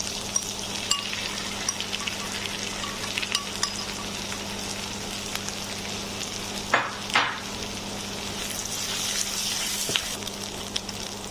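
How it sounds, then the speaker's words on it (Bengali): Pre-fried chicken pieces sizzling loudly in a pan over high heat, a continuous hiss broken by scraping stirs and a couple of louder bursts midway, with no voices. "আমার পেঁয়াজটা ভাজা হয়ে গেছে, এবার আমি মাংসটা দিয়ে দিচ্ছি,"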